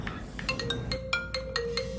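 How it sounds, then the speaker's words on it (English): Cell phone notification tones ring out as a quick run of bright, overlapping dings and chimes over a steady electronic tone, fairly faint. "the rings and dings from cell phone notifications during learning hours."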